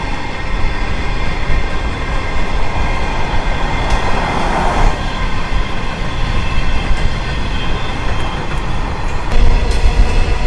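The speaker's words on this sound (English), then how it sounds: "Coal train's going both ways." A coal train rumbles past close by in Queensland, Australia, a steady heavy roar of wagons and wheels on rails with occasional metallic squeals, continuous for the whole stretch.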